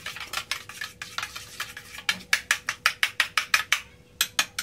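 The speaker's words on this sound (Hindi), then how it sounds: "ये हमने अंडा ले लिया और इनको हमने सिंपल वे में मिक्स किया इधर" Eggs for an omelette being beaten in a bowl, a quick run of regular clinking strokes that grows louder and sharper in the second half, with a short pause near the end and no talking.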